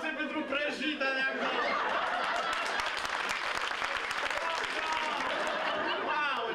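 Audience at a comedy show breaks into loud applause mixed with chuckles and laughter, clapping sustained throughout with voices and laughs woven in close by.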